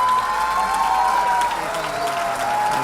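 A rugby crowd at Donnybrook gives a women's Ireland v Scotland match a sustained ovation, steady clapping and cheering at a moderate distance for the whole stretch, with a faint tonal whine running beneath.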